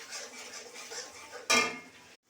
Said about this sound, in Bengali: এবার নাড়তে হবে, যতক্ষণ না টমেটোর রসমরি গুঁড়ো হচ্ছে ততক্ষণ নাড়তে হবে